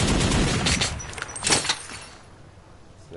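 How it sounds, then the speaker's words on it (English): Shotgun fire in a first-person shooter game set in a metro: a few loud, broad blasts over the first couple of seconds, then a quieter tail. "this is my favorite type of shotgun"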